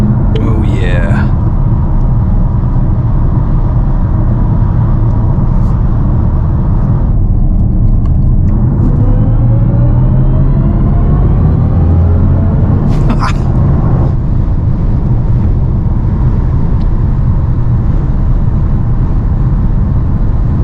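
A BMW i7 xDrive 60 electric sedan with 536 hp driving in Sport Mode: a steady low cabin and road rumble runs throughout, with faint rising synthetic tones, while voices talk inside the car.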